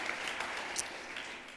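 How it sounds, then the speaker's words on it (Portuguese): Faint, distant applause from an audience at a talk about a Lisbon festival, a soft continuous patter of many hands clapping with no speech. "uma salva de palmas para essa equipa"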